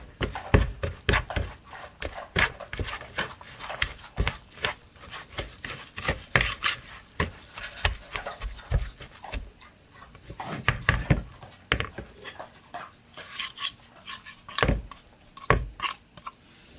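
A whisk scrapes and thumps through thick, sticky cookie dough in a bowl, a busy run of close, irregular knocks and rubbing strokes with short pauses.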